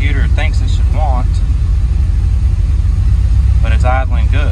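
Car engine idling steadily after a throttle body swap, a continuous low rumble close by, with a person talking over it at the start and again near the end.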